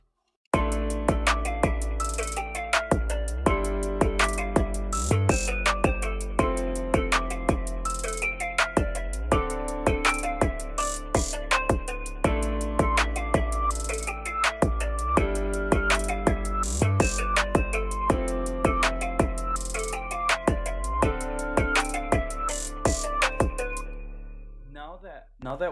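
Trap beat built in FL Studio plays continuously, with booming 808 bass and punchy kicks under a steady run of crisp hi-hats and layered melodic parts, loud and full throughout before cutting off near the end.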